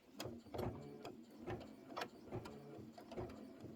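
A computerized embroidery machine stitches a tack-down line on a scarf for a quilted bench pillow, its needle striking in a quick, even mechanical rhythm of close, regular thumps with no voices.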